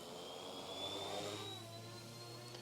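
An RC helicopter hovers in stability mode, its motor and rotor giving a steady close whine and drone with a rising high tone, continuous with no talking.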